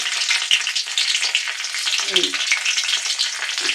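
Bay leaves and cloves sizzle in hot oil in a pan for basanti pulao, a loud steady crackling fry with a brief stir scrape partway through.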